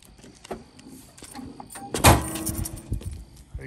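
A truck door on a second-generation Cummins pickup is slammed shut with one hard, loud thud, followed by some rattling and handling sounds.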